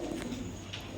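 Pigeons at a pigeon farm selling green-necked pairs, faint low cooing close by against a quiet background.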